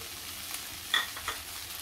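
Turmeric and masala being stirred into mushroom masala in a pan, with a soft, faint sizzle and a few light scraping strokes, and no voices.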